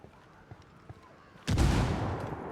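A frag grenade explodes in the video game Ghost Recon Wildlands. After a quiet stretch with faint movement, a sudden loud, deep boom bursts in and rumbles on without fading.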